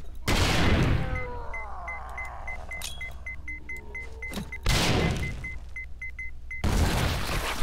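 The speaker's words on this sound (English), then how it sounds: "He took four or five grenades" Grenades detonate in the survival game 7 Days to Die, three sharp, loud broadband blasts spaced a few seconds apart, with quieter clinks and game sounds between them.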